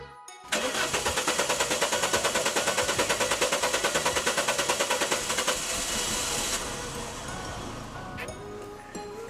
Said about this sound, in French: on va maintenant pouvoir essayer de démarrer la voiture